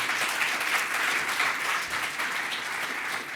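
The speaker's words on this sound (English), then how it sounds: "you just quickly give them a round of applause" An audience at a Western Sydney community conference applauds panellists and speakers, a steady dense round of clapping from a sizable crowd filling the room without pause.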